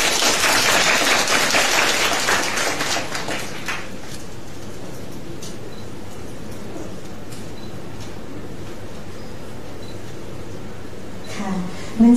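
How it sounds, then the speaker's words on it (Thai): Applause from a seminar audience welcoming a speaker, a burst of clapping for about four seconds that dies away into quiet room tone. "ขอเสียงปรบมือต้อนรับคุณสิริบุญณัฐพันธ์ค่ะ"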